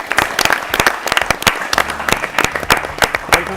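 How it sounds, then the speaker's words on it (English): Audience applause for a visiting director at a national quiz prize ceremony, dense clapping from a nearby crowd with sharp individual claps standing out, steady throughout. "Let's clap for sir."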